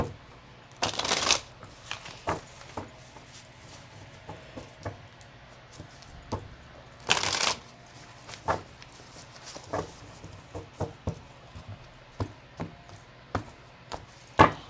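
A deck of tarot cards being shuffled and a card drawn, with two crisp riffling bursts and many soft taps and slaps of cards in between, close and fairly quiet with no talking.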